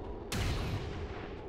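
A single gunshot in the video game XCOM 2, one sharp loud crack that falls into a rumbling tail lasting about a second, heard alone.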